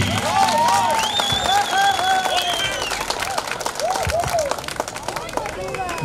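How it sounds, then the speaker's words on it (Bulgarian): A crowd claps and cheers amid lively Bulgarian chatter at a supermarket opening in Todor Ikonomovo, the applause steady and fairly loud throughout, with voices and whistles mixed in. "Дами и господа, аплодисменти за Айнур Сали Оги!"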